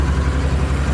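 A tractor engine idles on a hillside where gorse is being mulched, a steady low rumble with even throbbing, close and fairly loud throughout with no voices.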